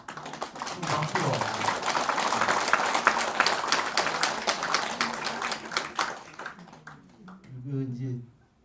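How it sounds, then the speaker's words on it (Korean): An audience at a Buddhist dharma talk breaks into applause, a busy patter of clapping that runs for several seconds, then thins out as a voice returns near the end. "박수로"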